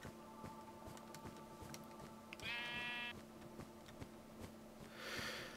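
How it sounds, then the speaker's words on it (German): Sheep bleat in Minecraft over a steady game background with regular soft clicking footsteps, one harmonic bleat near the middle and a brighter bleat near the end, both fairly faint. "Eieiei, jetzt nur Schafe."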